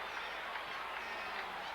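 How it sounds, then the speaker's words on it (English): Warm applause from a boxing arena crowd at the Marvin Hagler vs Juan Domingo Roldan fight: a steady, distant wash of clapping fills the whole short moment. "Well, there's warm applause"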